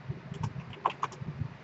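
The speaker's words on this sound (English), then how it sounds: "you hold down the shift key and you press the home key like that" Keys pressed on a Commodore 64 keyboard, shift held with the home key: a short run of close, crisp plastic key clicks and clacks, several distinct taps in quick succession, no talking.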